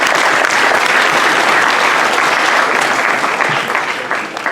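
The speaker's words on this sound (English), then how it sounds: "Let us clap hands for ourselves for maintaining that." Students at a school assembly clap loudly in unison, a thick, continuous burst of hall applause that holds strong and only starts easing off at the very end.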